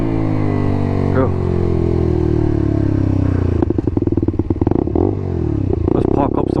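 Lexmoto motorcycle with its exhaust baffle removed, riding past with a loud, continuous engine drone that shifts pitch, then breaks into choppy, pulsing bursts as the throttle changes.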